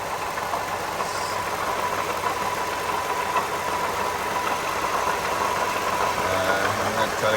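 A 2013 Toyota Sienna Limited engine idles steadily with a failing water pump and idler pulley, giving a continuous close mechanical whir with a faint knocking edge at an even level throughout.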